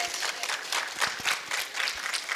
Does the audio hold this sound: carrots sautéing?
no